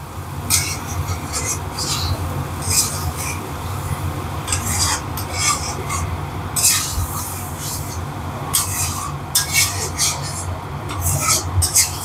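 Duck eggs being stirred and turned in a curry, with a steady scraping and rasping of a spatula against the pan, repeated strokes over a low background hum, close and moderately loud.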